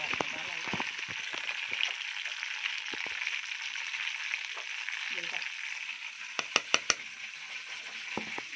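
Tomato pickle paste going into a hot fried mixture with the gas switched off, a soft broad sizzle with light stirring and a few sharp clicks near the end, while a voice talks over it.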